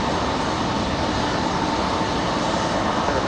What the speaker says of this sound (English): All right, so we got Delta. Touch it down now.